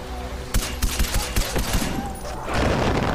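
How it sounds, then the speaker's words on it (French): Fireworks in the video game Far Cry 4, a rapid crackling volley of bangs and pops over a steady low rumble, loud and close, ending in a dense hiss of sparkles. "Il y a des feux d'artifice."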